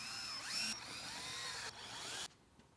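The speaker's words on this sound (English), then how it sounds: "screw the 3 screws into the sliding discs into the seat itself" Three screws driven through sliding discs into the seat of a Norsap 1500 Series chair with a power screwdriver: two close, rising and falling motor whines that stop abruptly, with a short quiet tail.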